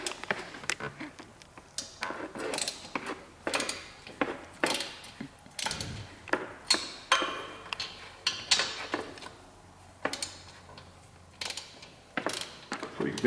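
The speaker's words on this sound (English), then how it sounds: "I've got a short extension, 3/8 drive ratchet on a 12 mil deep well." A 3/8 drive ratchet with a short extension and 12 mm deep well socket works the exhaust nuts on a 2015-2017 Yamaha YZF-R3, giving close, quiet bursts of rapid clicking separated by short pauses.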